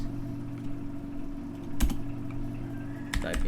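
A few sparse keystrokes click on a computer keyboard as router configuration commands are entered, faint and close with a low hum beneath and no talking.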